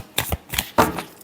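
Tarot cards being shuffled by hand: a few quick papery riffles in separate bursts, close and moderately soft, with no talking.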